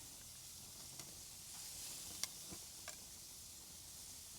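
Pineapple slices coated in butter, Grand Marnier and Saigon cinnamon sizzle quietly on a grill, a faint steady hiss with a few soft ticks and pops scattered through it, no voices.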